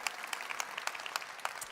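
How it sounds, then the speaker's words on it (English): Brief scattered clapping from a developer-conference audience in Berlin for two presenters, a thin spread of individual claps, fairly quiet and irregular, with no voices. "Please give them a warm clap."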